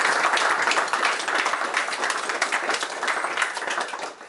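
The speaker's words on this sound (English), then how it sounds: "So a big round of applause." An audience at an opening speech claps in a steady, fairly quiet round of applause that fades a little toward the end.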